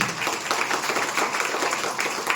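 An audience clapping at a business seminar, steady moderate applause with dense overlapping claps throughout the short stretch.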